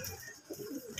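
Pigeons coo softly in a short, faint burst of low, rounded calls, with a light background hiss throughout.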